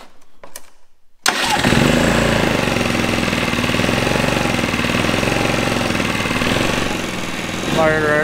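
An old generator, last used broken six years ago, catches after a quiet second of faint clicks and settles into a steady, loud, rattling mid-pitched engine run, rising slightly near the end.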